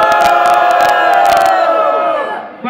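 Crowd at a street rap battle semifinal cheering, whooping and shouting loudly to vote, a dense burst of voices with claps that fades out near the end.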